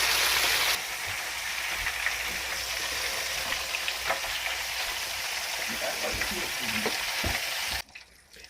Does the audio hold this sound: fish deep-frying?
yes